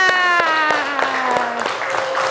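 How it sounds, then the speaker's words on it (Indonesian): In a classroom, a group claps in a spaced, rhythmic pattern of sharp hand claps while a sustained tonal voice or whistle-like tone runs over them, slowly falling in pitch. "Tepuk tangan semuanya."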